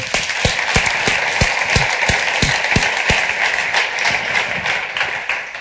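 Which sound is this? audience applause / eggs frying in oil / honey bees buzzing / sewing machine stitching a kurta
audience applause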